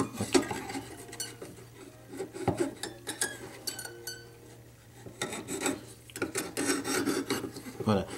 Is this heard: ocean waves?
no